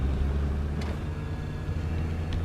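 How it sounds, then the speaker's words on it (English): A car engine in the zombie survival game State of Decay gives a steady low rumble that runs unbroken through the whole stretch, close and fairly loud, with no talk over it. "The sounds are really crappy for the cars."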